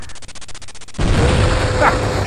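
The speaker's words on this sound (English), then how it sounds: "all these explosions, it's just making the soundtrack go off for me." Explosion effects from a Last Action Hero virtual pinball table, a sudden loud burst that cuts in after a stretch of rhythmic pulsing music and then sustains as a broad, dense roar.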